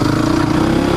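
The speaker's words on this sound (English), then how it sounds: "this is a two-stroke, and you look at him, I'm in first gear, and he just chugging up the hill with that KTM" A KTM 250XC two-stroke dirt bike engine chugs in first gear while climbing a hill, giving a steady, loud, continuous drone with no pauses across the short stretch.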